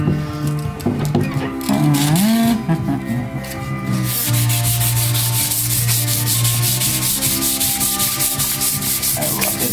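A Fender Jazzmaster wooden guitar neck is sanded hard by hand, the abrasive rubbing loud and close, first in uneven strokes and then in a fast, regular back-and-forth rhythm.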